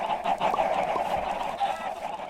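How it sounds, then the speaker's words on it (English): Dense, continuous clucking of many chickens in a video game, a busy flock of about 300 that fills the whole stretch without pause. "About 300 chickens right there."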